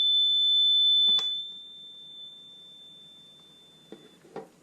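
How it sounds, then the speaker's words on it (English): A BW685 blood and fluid warmer sounds its high temperature alarm, a loud continuous electronic beep tone holding steadily for about a second before cutting off, followed by a few faint clicks and knocks nearby. "the high temperature alarm and the continuous audible beep"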